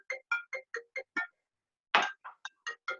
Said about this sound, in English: Got a little phone call there.